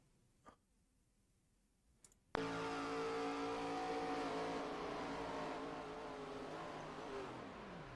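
An ARCA Series race car in a video game at Texas Motor Speedway, heard from onboard: after a couple of faint clicks the engine cuts in abruptly with a loud sustained high-revving drone that holds steady and shifts pitch slightly near the end.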